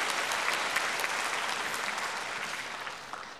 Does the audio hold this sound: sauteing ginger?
no